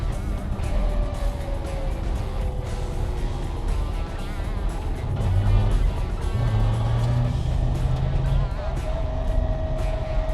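A rally car's engine drones steadily from inside the cabin during the Shannons Heartland Rally, rising and falling in pitch with gear changes over road rumble, with little talk.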